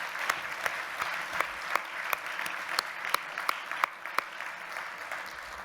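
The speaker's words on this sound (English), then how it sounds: "would you join me in just giving him one last round of applause?" Audience applause fills a hall at the close of a debate event, with steady clapping and sharp individual claps standing out throughout, and no talk over it.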